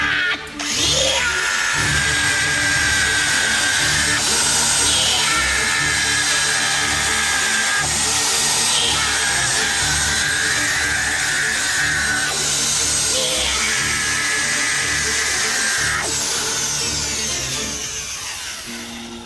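An electric power drill runs continuously, pressed against a man's head in a Chinese qigong strength demonstration, whining loudly and steadily with its pitch dipping and recovering several times under load, and no voices are heard.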